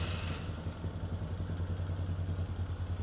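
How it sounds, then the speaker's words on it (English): A Polaris Sportsman 500 ATV engine idles close by with a low, even, pulsing putter and light mechanical clatter, after a brief burst of hiss at the start. "start the engine and allow it to idle for 10 to 15 seconds"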